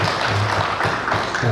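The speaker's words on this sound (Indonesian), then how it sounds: "Tepuk tangan untuk kita" Applause from an audience at an Indonesian nurses' inauguration and oath-taking ceremony, a dense, steady patter of many hands lasting briefly with no pause.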